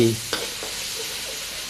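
Rice frying in a pan after sugar has been added makes a brief, steady sizzle with a single soft spatula scrape, close by.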